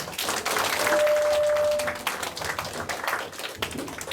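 An indoor audience applauds after a two-hour lecture on Daegu aristocratic families, with dense, sustained clapping that swells and then thins out.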